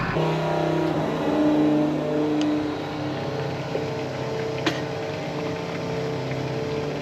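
A farm vehicle engine idles while warming up, a steady low rumble with some tonal drone and slight swells in revs, and a few faint clicks and knocks around it.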